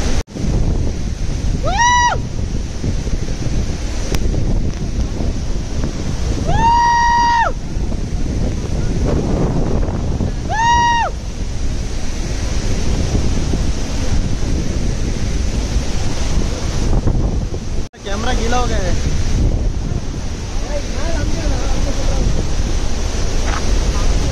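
A steady roar of rushing water at Athirappilly Falls in Kerala and strong stormy wind buffeting the microphone, with a few high whistling calls or tones cutting through.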